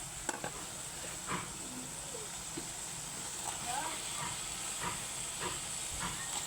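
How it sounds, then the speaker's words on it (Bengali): Pieces of bottle gourd go into a pan of frying shrimp, giving a steady hiss and sizzle with scattered stirring clinks, close and continuous, under someone speaking. "এখন আমি এটার মধ্যে আমার লাউটা দিয়ে দিব।"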